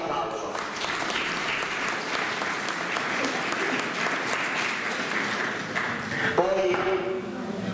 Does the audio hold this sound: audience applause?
yes